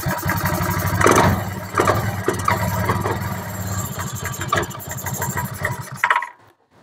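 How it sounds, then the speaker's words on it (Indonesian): A carbureted Honda Vario 110 scooter with a new battery fires up on its electric starter and runs at a steady, fairly loud idle for about six seconds before cutting off abruptly. "Langsung tes starter jreng Pak."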